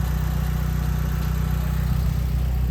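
A Mitsubishi Evo 9 with its 4G engine idling after a cylinder head install, a steady, even, close rumble with a smooth low throb and no talking.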